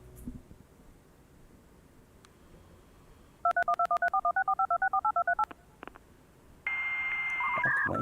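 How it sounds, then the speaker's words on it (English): Telephone number dialed on a terminal, a rapid run of about a dozen evenly spaced DTMF keypad tones after a quiet hiss, followed by a steady modem handshake tone. "A number is dialed and we hear the sound of a modem handshake"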